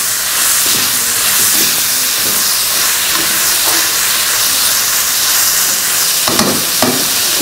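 Fermented fish (som pla) frying in a pan, a loud continuous sizzle and hiss of steam with occasional stirring scrapes, no talk over it.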